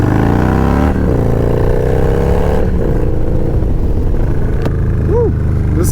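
A custom Harley-Davidson Dyna Low Rider S rides on twisty roads, its engine revving loudly with shifting pitch and a gear change, close and dominant, with a voice briefly over it.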